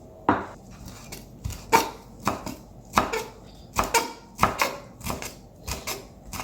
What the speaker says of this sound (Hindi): इसको मैं चॉप करके सैलेड बॉल में डालूंगी।